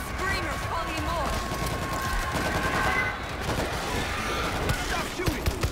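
Rapid gunfire from a zombie-shooter video game, World War Z, set in New York, with dense bursts of shots running steadily under overlapping shouted voices.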